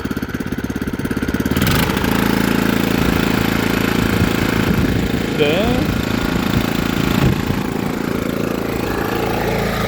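A used Taekwang TKC450 tiller engine starts and then runs with a loud, steady rattling chug close by, while someone talks over it.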